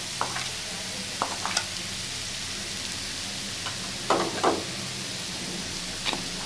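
Spice powders, including turmeric, mutton masala, chilli powder and pepper, being stirred into a Kerala-style clam roast (kakka irachi) in a pan: a few soft, scattered scraping strokes over a low, steady sizzle, with no talking.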